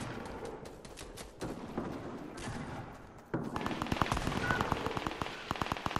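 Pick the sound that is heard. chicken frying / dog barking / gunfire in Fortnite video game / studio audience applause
gunfire in Fortnite video game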